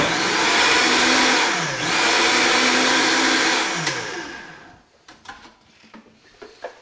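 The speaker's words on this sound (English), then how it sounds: "Let's get it back in the Vita-Mix. Start it on low, just give it a good stir." Vita-Mix blender blending a green hemp-milk superfood smoothie with sea salt, running loud and steady as a dense whirring roar with a pitch dip midway, then shutting off and leaving a few knocks and clatters.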